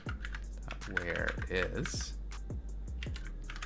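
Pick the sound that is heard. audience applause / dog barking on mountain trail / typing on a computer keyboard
typing on a computer keyboard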